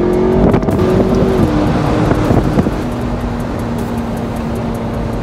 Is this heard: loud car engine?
yes